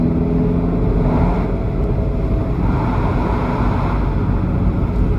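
Abarth 595C hot hatch with a 1.4 turbo engine driving through a short tunnel, a steady, loud enclosed drone of engine and road noise with no talk.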